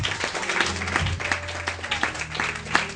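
A church congregation claps in a steady, rapid rhythm, loud and close, mixed with a few cheering voices and faint talk.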